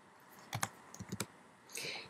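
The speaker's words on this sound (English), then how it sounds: "So I'm going to type" Keys on a computer keyboard are tapped in a quiet room: two quick clicks, a short run of four presses, then a longer soft rattle near the end, all close and faint with no talk.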